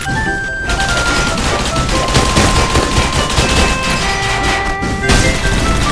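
Heavy automatic gunfire in the video game Gunz 2, a loud, dense fusillade of rapid shots and impacts that runs almost nonstop, broken by one brief pause.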